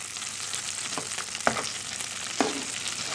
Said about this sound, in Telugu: చక్కగా ఇక 1 by 1 ఇలా తిప్పుకుంటూ చక్కగా ఫ్రై చేసుకోవాలి